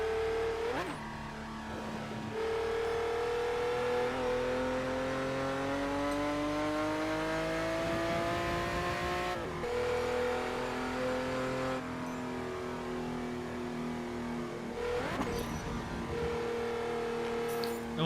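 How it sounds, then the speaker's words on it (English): A car engine in the racing game Test Drive Unlimited 2 revs and climbs through its gears, pitch rising steadily and dropping at each shift, loud and continuous with no talking. "the engine noises in this game are phenomenal"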